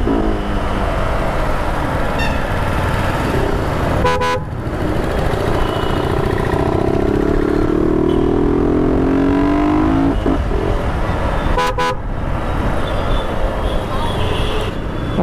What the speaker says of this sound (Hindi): और ये बाइक अकेले चलाने में ही मजा अलग है।